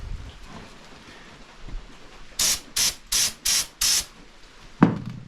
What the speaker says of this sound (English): let's spray some carb cleaner down the throat and see what we get for some action.